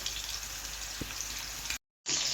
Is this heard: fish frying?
yes